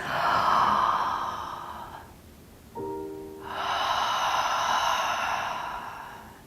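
Deep, slow breaths taken during gentle antenatal yoga stretches: a long, airy exhale, a quiet pause, then another full breath in and out, close and soft.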